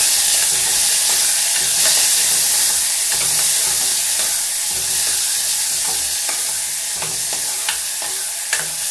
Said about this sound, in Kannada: ಈಗ ಅರ್ಧ ಟೊಮೊಟೊನ ಇಲ್ಲಿ ಒಗ್ಗರಣೆಗೆ ಹಾಕ್ಕೊಳ್ತಾ ಇದ್ದೀನಿ